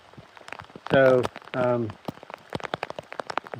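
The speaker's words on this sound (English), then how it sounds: "Remember, no rain, no pain, no main, and I'm getting plenty of the rain." Rain patters on a hiker's plastic waterproof phone case on the Appalachian Trail, with irregular close taps and crackles while a voice speaks briefly.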